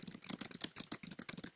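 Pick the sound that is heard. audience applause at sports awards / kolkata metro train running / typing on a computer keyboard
typing on a computer keyboard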